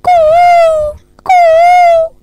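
Two long, clear, rising-and-falling whistled calls of an Asian koel ring out loud and close, nearly a second each with a brief pause between, and no voices.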